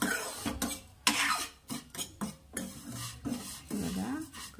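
Vermicelli roasting in a pan is stirred with a utensil, giving close, repeated scraping and rustling strokes against the metal in an uneven rhythm.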